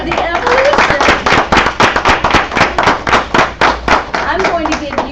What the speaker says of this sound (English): So everyone applaud the evolution